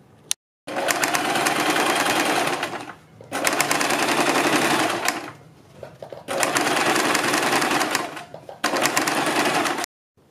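A sewing machine stitches along the edge of a suit or kurti neckline that has been turned inside out, running in three long, loud, steady bursts with short pauses between them and no talking.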